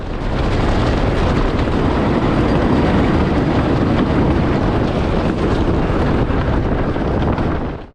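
Grand National, a classic wooden roller coaster at Blackpool Pleasure Beach, thunders along its track in a dense, close, unbroken roar of rumbling wheels and clattering timber for the whole stretch.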